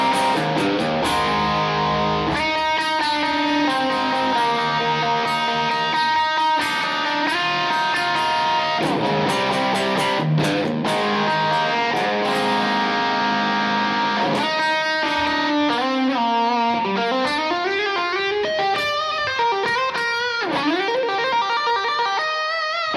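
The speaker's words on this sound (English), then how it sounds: "I'm really happy with that kind of spanky bridge pickup tone" A Fender Custom Shop HSS '62 Reissue Stratocaster on its bridge pickup plays through a Kemper Marshall JMP tone with a tube screamer, light saturation and room reverb. The distorted chords and single-note runs are steady and loud, with no talking.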